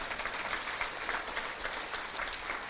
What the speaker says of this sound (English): let's give Henry a round of applause for those accomplishments.